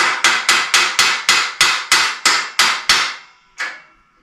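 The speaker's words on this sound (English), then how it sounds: "there's a little roll pin that you need to drive into that" A hammer strikes metal in a fast, steady series of about eleven sharp blows, driving a roll pin into a screw rod on a Black and Decker Workmate 225, then one final hit after a short pause, close and loud.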